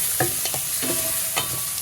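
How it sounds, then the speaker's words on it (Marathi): Onions sizzling in hot oil in a pan, a steady close fry with a few louder scraping stirs cutting through; no one speaks. "आतां म्हगेलो पियाव घाता. पियाव बरो भाजून घेता."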